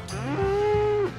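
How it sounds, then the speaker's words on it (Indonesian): A cow moos in the farming video game Ranch Simulator, one long, loud, drawn-out low call with a steady tone, heard alone and close. "Suara sapi tuh tadi."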